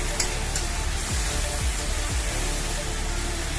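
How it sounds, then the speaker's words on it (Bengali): Prawns fry in hot oil over a low flame, a dense, steady sizzle close by, with faint stirring scrapes now and then. "এটাকে ভেজে নিচ্ছি, ভালো করে ভাজা হচ্ছে।"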